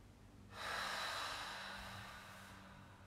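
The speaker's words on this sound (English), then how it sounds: "2 more slow open mouth exhales" Long, slow open-mouth exhale during a restorative yoga session, a breathy rush that swells in and holds for about two seconds before fading, close and fairly soft with no talking.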